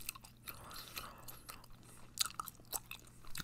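Close, quiet chewing of Hubba Bubba bubble gum, with soft wet smacks, clicks and crunchy bites in an uneven rhythm and no talking.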